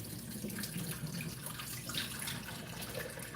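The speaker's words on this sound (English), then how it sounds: "Go ahead and drain this off here so I don't lose any of my onions." Liquid drained slowly off cooked onions through a strainer, a steady faint splashing trickle with no pauses and no talk.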